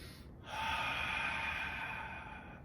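A single deep diaphragmatic in-breath during an ab exercise session, a soft, steady airy inhale that begins after a brief pause and holds for about two seconds, close and quiet with no talking.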